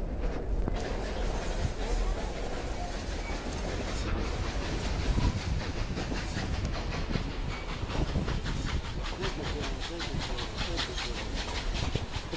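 Train on the Durango and Silverton narrow-gauge railway at a 2011 railfest, a steady loud rumble with hiss and a rapid rhythmic chugging beat emerging toward the end, no voices.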